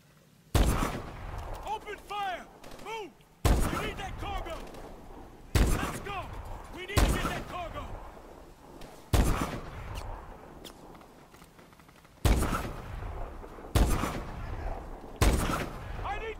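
Gunfire bursts in the Call of Duty Advanced Warfare video game, roughly seven sharp loud volleys spaced a second or two apart, with voices talking between and over the shots.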